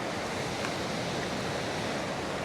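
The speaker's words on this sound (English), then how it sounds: "Gonna watch the water swirling around." Sea water swirls and washes around jagged coastal rocks, a soft, steady hiss of surf with no distinct breaks, heard from a short distance and fairly quiet.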